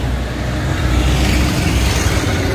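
Small matatu minibuses passing along a road in Kisauni, Mombasa, a dense continuous traffic roar close by with no talk.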